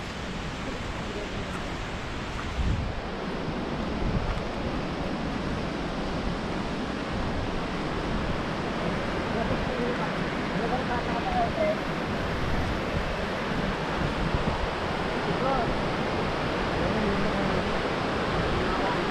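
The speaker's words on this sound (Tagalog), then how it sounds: "Kita ko na yung pagdaloy ng tubig." Water pours steadily at Mangta Falls in Bakun, Benguet, making a dense, unbroken roar that fills the whole stretch. Wind buffets the microphone now and then.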